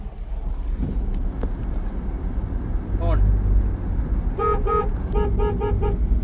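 A car horn honks in a quick series of short toots on a road drive, with engine and wind rumble underneath and people talking nearby.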